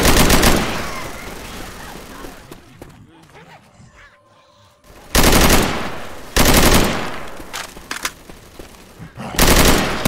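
Gunfire in Left 4 Dead 2 comes in loud, close bursts of rapid automatic shots, with a quieter stretch in between carrying other game sounds and people talking.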